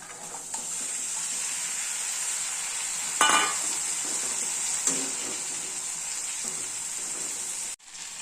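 Steady sizzling of cauliflower frying in a hot pan, with a couple of brief stirring scrapes and clatters partway through.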